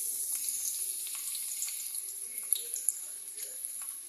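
Chopped garlic fries in hot oil for a Punjabi-style sarson ka saag, giving a faint, steady high hiss with occasional light pops and crackles.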